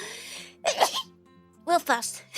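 A person sneezes, giving two sharp bursts close to the microphone, while a voice speaks briefly in between.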